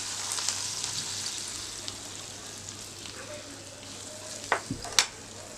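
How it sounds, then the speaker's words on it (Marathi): Poha tossed with a fresh tempering of spices and coriander, stirred in a pan: a steady, even sizzle with light scraping throughout, then two or three sharp metallic clanks of the spoon on the pan near the end. "सगळं व्यवस्थित मिक्स करून घेऊया"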